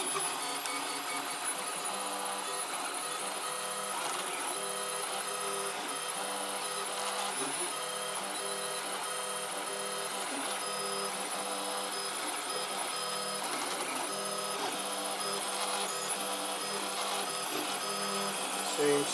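A 3D printer running at 100 and 210 after a hot end and push plate rework, giving a steady mechanical whir with small stepper-motor pitch shifts that continue unbroken throughout, with faint talk at times.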